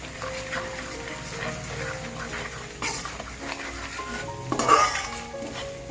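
Methi pak mixture, with water chestnut flour, roasts in ghee while a spoon stirs and scrapes the pot in uneven strokes over a soft sizzle, with a louder clatter near the end.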